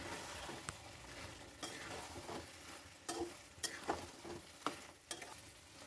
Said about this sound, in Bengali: ধনেপাতা দেওয়ার পর 1 মিনিট ওটাকে নেড়ে নেবেন।